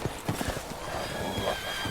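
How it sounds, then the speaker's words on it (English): Horses galloping in the video game Resident Evil Village, with rapid hoof clops and a neigh over a dense, noisy game background. "Now they're riding horses?"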